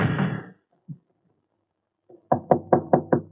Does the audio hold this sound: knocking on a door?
yes